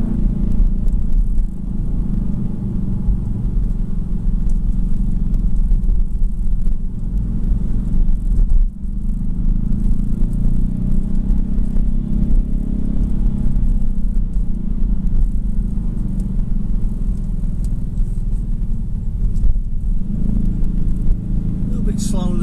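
Kia Stinger driving in sport mode, held in one gear, its engine a steady low rumble and road noise heard from inside the cabin, continuous throughout with a voice talking over it.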